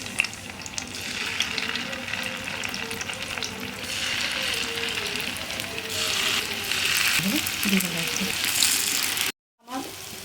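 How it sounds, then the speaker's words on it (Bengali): Steady crackling sizzle of soya chunks frying in hot oil and ghee, with a few soft clinks and stirring sounds near the end before a brief cut. "আমি 2বার করে এগুলোকে ভেজে নিচ্ছি"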